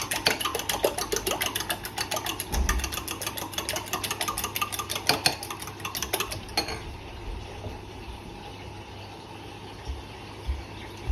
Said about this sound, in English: just grab a fork, give it a whisk